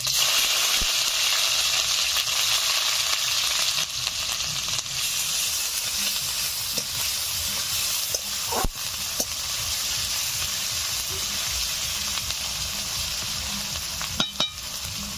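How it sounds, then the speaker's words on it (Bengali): Onion paste frying in hot oil with garam masala and cumin for a Bengali chicken curry, a loud steady sizzle throughout with occasional scraping stirs of a spatula. "এখন দিয়ে দিচ্ছি পেঁয়াজ বাটা"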